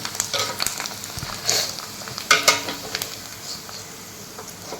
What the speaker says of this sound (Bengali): এই যে পাঁপড় ভাজবো এখন তিলটা গরম হয়ে গেছে